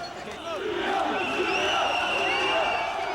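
A large crowd of demonstrators surging at the Parliament raises a continuous roar of mingled shouting voices, swelling slightly and holding loud across the moment.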